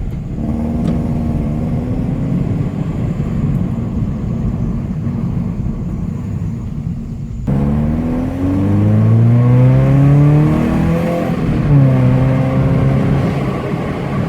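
A Subaru BRZ with an Invidia front pipe exhaust drives along, a steady engine drone that shifts gears partway through, then rises into a louder, raspier pull as revs climb and fall, heard from inside the car.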